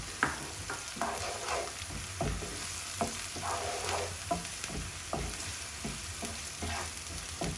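Softened onion fries in a pan for a chicken jalfrezi, a soft, even sizzle broken by regular scraping strokes as it is stirred, fairly quiet and with no voices.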